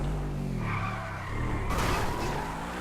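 Car driving and skidding in GTA V with the LSPDFR mod, a steady engine drone overlaid with sustained tire squeal that swells into a brighter, louder screech partway through.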